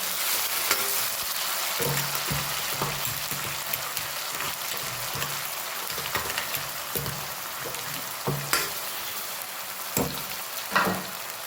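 Tomato puree with ginger and garlic sizzles in a pan over a full flame, a steady close frying hiss with soft bubbling pops and occasional stirring scrapes, no voices.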